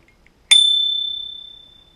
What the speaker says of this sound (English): wanted to show you the Merry Cycle bell